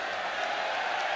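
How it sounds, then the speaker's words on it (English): A boxing arena crowd at a Chris Eubank Jr fight keeps up a steady, dense roar of cheering and murmuring, distant and continuous without clear peaks. "Crowd getting into it."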